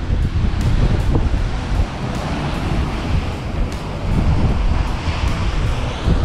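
Surf rolls onto the sand at Praia do Matadeiro beach in Florianópolis, with loud, continuous breaking waves and heavy wind buffeting the microphone.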